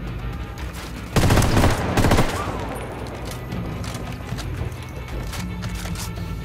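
Gunfire erupts in the video game Ghost Recon Wildlands: a loud, dense burst of rapid shots, then scattered reports and background combat noise continuing underneath.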